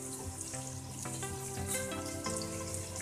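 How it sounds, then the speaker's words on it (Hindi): Cut pakora pieces drop into hot oil and fry, giving a soft, steady sizzle and bubbling that stays faint and even throughout, with no talk over it. "ये जो हमने काट के रखे थे ये हम ऑयल में डाल देंगे"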